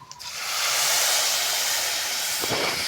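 Black gram lentils hit a hot pan and set off a loud, steady sizzling hiss that rises quickly and holds close and even to the end.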